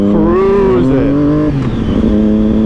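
Triumph Daytona 675R motorcycle engine pulling through the gears while cruising on a city street, a loud close rising and falling whine with shifts between gears, over steady road noise.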